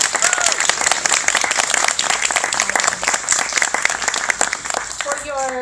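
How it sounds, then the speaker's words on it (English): Dense, steady audience applause at a kindergarten graduation, many hands clapping together at close range for the full stretch, with voices murmuring underneath and a few squeals rising near the end. "A round of applause"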